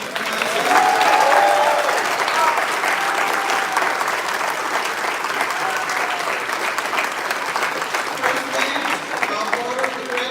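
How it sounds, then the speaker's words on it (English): Audience applause at a high school commencement ceremony, a steady dense clapping from a large crowd lasting the whole stretch, loudest near the start and fading slightly, with faint voices mixed in. "he too deserves a round of applause"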